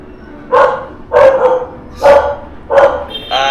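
A dog barks four times in a slow, regular rhythm, loud and close, with short quiet gaps between each bark.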